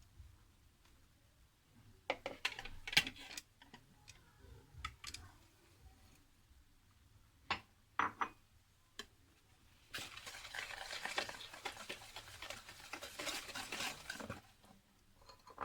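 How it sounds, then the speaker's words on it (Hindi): A spoon or whisk mixes beaten eggs, oil and sugar in a bowl for carrot cake batter. Quiet clinks come in scattered bursts, then turn into a busier, steady stretch of brisk stirring near the end. "अब इसमें मैं ऑयल और शुगर डालूंगी और उनको भी अच्छी तरह मिक्स कर लेंगे"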